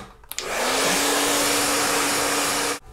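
Hair dryer blowing on curly bob-cut hair, switched on with a click and running as a loud, steady, close whoosh with a constant motor hum for a little over two seconds before cutting off, with no talking.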